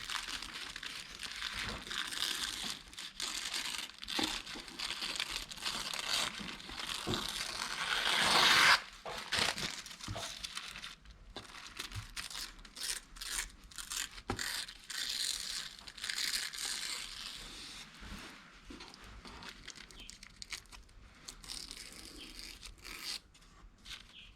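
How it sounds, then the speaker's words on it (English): Textured tissue paper torn by hand for a mixed media craft project, producing close, intermittent crinkly rips and rustles with quiet pauses between. "I'm going to tear the tissue to size instead of using scissors"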